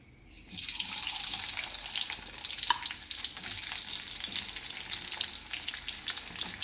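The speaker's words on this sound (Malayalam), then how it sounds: "ഇപ്പോൾ എണ്ണ തിളച്ചെന്നുള്ളത് അറിയാൻ പറ്റും ഇത് നമുക്കിത് അങ്ങോട്ട് ഇടാം" Mango pieces dropped into hot boiling oil for a pickle set off a loud, steady hiss of frying that starts abruptly and carries on without a break, with light crackle over it and no talk.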